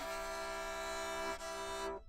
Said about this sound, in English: If I play in tune E natural, sounds like this.